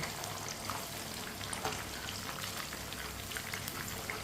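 Flour-coated chicken pieces fry in oil over medium heat, giving a steady, dense crackling sizzle that stays even and close throughout, with no voices.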